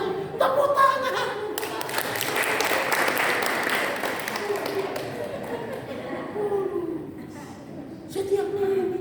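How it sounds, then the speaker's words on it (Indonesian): Church congregation clapping at a Sunday worship service, a steady broad wash of applause mixed with chuckles and murmuring voices, moderately loud and sustained. "Tepuk tangan."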